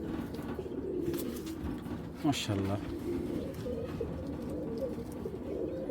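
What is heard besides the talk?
Giribaz pigeons cooing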